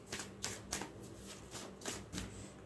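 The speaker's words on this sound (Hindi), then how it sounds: "I want to take one card from this deck." An oracle card is drawn from a deck, heard as a series of soft papery riffles and slides with a quiet, close rhythm, several light bursts spread across a few seconds and no speech.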